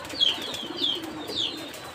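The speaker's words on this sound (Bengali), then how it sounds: "তো এখন আর দেখাচ্ছে কবুতর অনেক মাটি খাচ্ছে" Village pigeons in rural Bangladesh call nearby while feeding on soil, three soft repeated coos spaced evenly over a quiet outdoor background.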